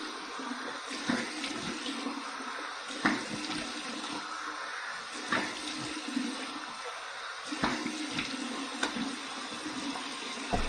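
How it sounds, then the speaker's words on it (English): Cold water runs from a tap for a rinse after a shave with a slant safety razor, a steady splashing rush broken by louder slaps of water against face and hands, close and alone. "Cold water rinse."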